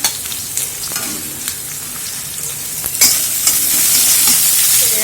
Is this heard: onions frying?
yes